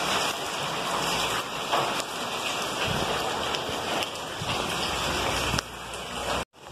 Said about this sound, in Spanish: llueve y llueve y llueve